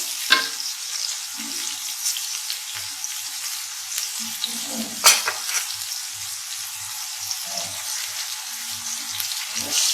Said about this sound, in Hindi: देखिए हमने अब प्याज हमारे जल्दी ब्राउन हो जाएंगे